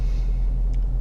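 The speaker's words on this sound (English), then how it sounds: "The problem is it's super windy" Strong wind buffets an open outdoor microphone in a heavy, pulsing low rumble that fills the short moment, with a faint distant sound near the end and no speech.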